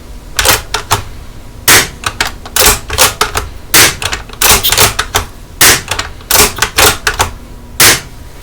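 An airsoft gun on HPA high-pressure air, fed from a tapped magazine, fires close and loud in quick sharp pops. Some shots come as single pops and others in short rapid strings, with brief pauses between the groups.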